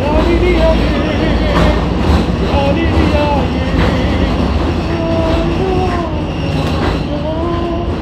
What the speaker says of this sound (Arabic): راكبين اللي هو القطر اللي عامل زي التلفريك ده